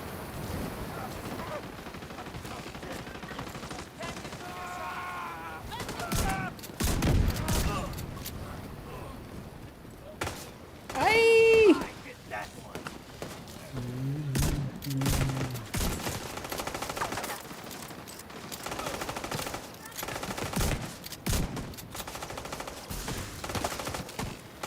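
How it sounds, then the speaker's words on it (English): Video-game gunfire aimed at the player, bursts of shots and sharp cracks scattered through the clip among game effects, with talk over parts of it. "Who's shooting me?"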